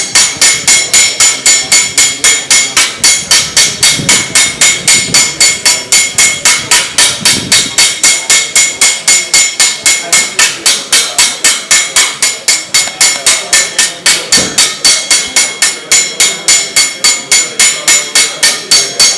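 Hammer striking metal sheet being shaped, a long, even series of sharp, loud ringing blows at a brisk steady rhythm, close up and with no voices.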